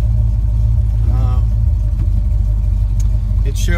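A steady low engine rumble fills the cabin of a moving 1979 Corvette, with someone talking over it.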